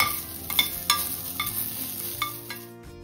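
Fresh coconut fries in a pan with a low, steady sizzle, broken by a few sharp scrapes and clinks as a spoon stirs it against the metal.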